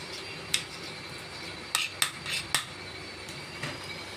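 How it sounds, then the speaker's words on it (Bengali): A knife chops culantro (long coriander) leaves on a board in a home kitchen making a vegetable dish: a handful of sharp, light taps, irregularly spaced, over a steady background hiss. "এই বিলাতি ধনেপাতাটা এখন আমি কুচিয়ে নিচ্ছি"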